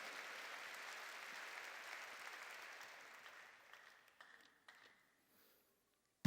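A church congregation applauding during a sermon, a broad wash of clapping that gradually thins and fades out over several seconds, with a few scattered late claps near the end, fairly faint and without talk.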